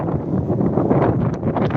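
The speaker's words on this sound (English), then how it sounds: "I know you can hear the wind" Cold wind buffets an outdoor microphone at a protest in Ballymun, a steady broadband rumble and roar filling the whole stretch with no pauses and no voices.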